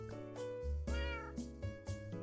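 Meowing from a cat in Minecraft, a run of several short tonal calls in quick succession, fairly loud and close with no talk over it.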